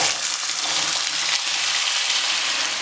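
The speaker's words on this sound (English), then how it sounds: "Heat up olive oil in your pan." Potatoes frying in hot olive oil in a pan give a steady, loud, dense sizzle with a bright crackling hiss that holds evenly throughout, with no talking.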